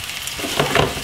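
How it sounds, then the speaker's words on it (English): Vegan callaloo fries in a pan at close range, giving a brief, steady crackling sizzle. "as I can see, it's frying up at the moment"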